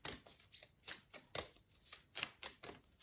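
Tarot cards shuffled and drawn close up, a quiet run of crisp riffling snaps and slides in irregular bursts, roughly a dozen distinct flicks.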